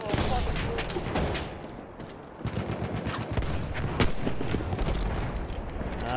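Machine gun fire in Battlefield 1, a dense rattle of rapid automatic shots mixed with scattered gunfire and booms, loud and continuous, with occasional voices underneath.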